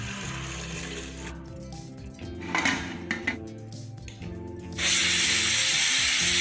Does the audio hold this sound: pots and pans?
yes